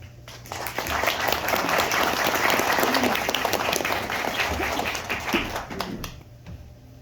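An audience at the Riverview Inn applauds the Tri-State Players cast, a full, steady burst of many hands clapping that swells, holds for several seconds, then fades out.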